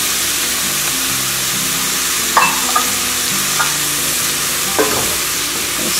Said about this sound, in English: stir that all around.